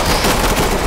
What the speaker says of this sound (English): Being shot at, but I don't know where.